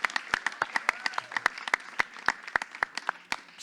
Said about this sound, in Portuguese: Palmas para o Pietro, por favor, pessoal